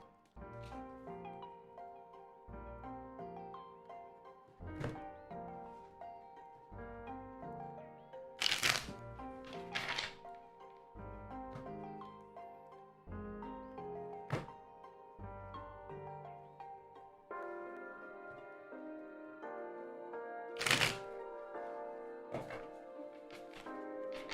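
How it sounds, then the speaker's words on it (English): Tarot cards being shuffled close up, repeated riffling and soft slaps with a few sharper thumps as the deck is handled, under quiet music. "I'm just doing a nice little shuffle."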